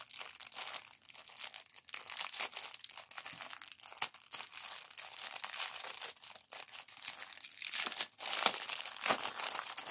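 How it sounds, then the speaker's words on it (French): Gift wrapping paper on a small daily present is torn open and crinkled up close, with bursts of ripping and rustling continuing throughout and no talking. "j'ouvre le papier"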